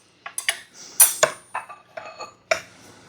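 A fork or knife cutting a slice of apple pecan cake on a plate, with a series of distinct clinks and taps of metal on dishware, close and fairly loud, with no talking.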